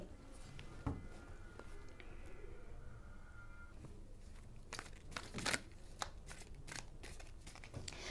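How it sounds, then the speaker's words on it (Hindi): Tarot cards are shuffled close by, giving soft papery riffles and flicks with a few sharper slaps, against a quiet room hiss. "क्योंकि टैरो कार्ड्स के अंदर शफलिंग बहुत ज़रूरी है"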